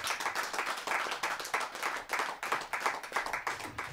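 A poetry gathering audience breaks into loud, sustained clapping, with dense, even applause filling the hall throughout and no voices over it.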